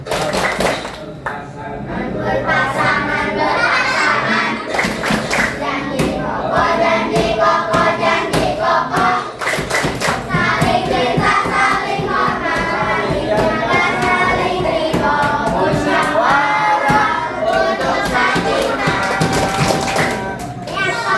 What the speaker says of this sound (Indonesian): Tepuk sakinah